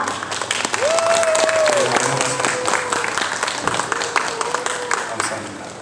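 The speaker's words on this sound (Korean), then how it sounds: "힘찬 환영의 박수 부탁드립니다." A studio audience at a lifestyle talk show claps steadily in welcome, dense applause filling the room while a voice speaks briefly over it.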